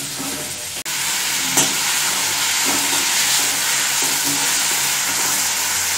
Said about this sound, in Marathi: आपण छान परतून घेऊ टोमॅटो मऊ होईपर्यंत